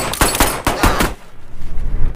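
Shots fired aggressively by a police officer in a film scene, a quick, loud close burst of several gunshots followed by a rumbling, uneven tail, with no speech.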